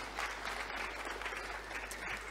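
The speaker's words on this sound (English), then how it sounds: "maybe just give yourself a big round of applause for being here" A conference audience breaks into sustained applause, dense and steady clapping from a sizable crowd filling the room at a constant loud level.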